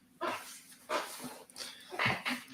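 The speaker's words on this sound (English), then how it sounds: "Maybe y'all know whose dog this is." A dog gives a few short, breathy whimpers and soft vocal bursts, close by in a quiet room, with no talking.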